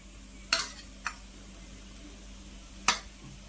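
Onion paratha being flipped on a hot pan: three sharp spatula clacks, one near the start, one soon after and one later, over a faint, steady background sizzle.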